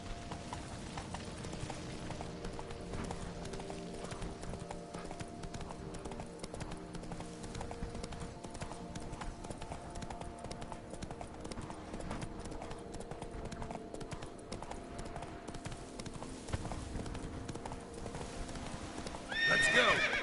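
Hooves of Roach, the horse in The Witcher 3 video game, clip-clop steadily at a gallop throughout, close and continuous, with occasional whinnies and a louder burst near the end.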